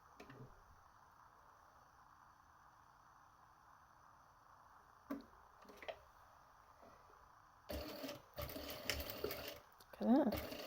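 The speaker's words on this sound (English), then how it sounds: "I'm going to sew these two pieces together." A domestic sewing machine stitches two pieces of fabric piping together, giving a faint, steady mechanical whir. Louder handling rustles and clicks come near the end.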